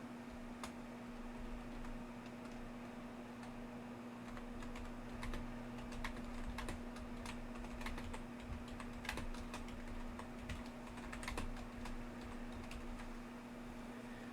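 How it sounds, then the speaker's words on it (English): Computer keyboard typing, quick irregular key clicks over a steady electrical hum, close and moderately quiet, with no talking. "So I'm going to type that real quick."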